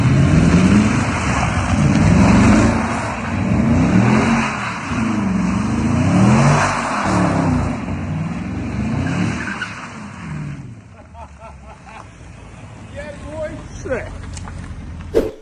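A Jaguar S-Type drift car does donuts, its engine revving in repeated rising and falling waves with tyre squeal, loud and close; it then eases to a quieter, rougher idle with small clicks.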